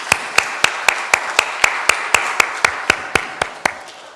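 A church congregation claps in thanks during a Sunday service, about fifteen sharp, evenly spaced claps in a steady unison rhythm, crisp and close, gradually fading at the end.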